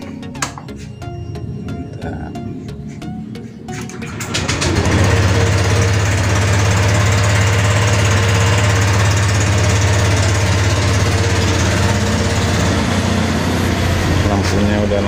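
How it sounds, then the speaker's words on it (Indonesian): A Honda Vario scooter engine, after its bodywork is refitted, starts up partway through and settles into a steady, close, low droning idle. Faint clicks and rattles from handling come before it. "Motor udah hidup."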